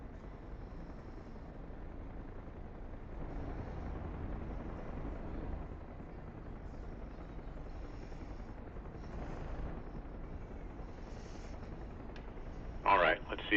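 Helicopter hovering in the DCS World flight simulator, a faint, steady rotor and turbine drone running throughout beneath radio-style voice chatter.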